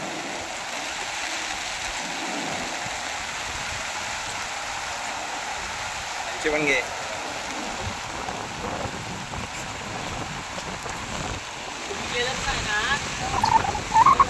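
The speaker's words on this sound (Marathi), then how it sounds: "आज भरपूर पाऊस आहे इथे" Heavy monsoon rain in Alibag, a continuous broadband hiss of downpour with rushing water, a few louder bumps and splashes, and a brief spoken remark partway through.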